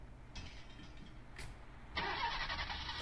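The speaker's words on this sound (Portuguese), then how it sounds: "Você deu partida." Engine turns over and catches in a video game car, then settles into a loud, steady idle with a hiss, with no talk.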